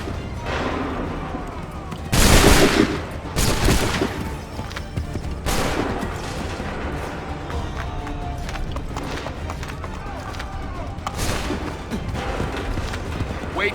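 Muskets fire in a volley on a battlefield in Assassin's Creed III, a loud crackling burst of overlapping shots followed by scattered reports, with ongoing rumble and movement noise in the background.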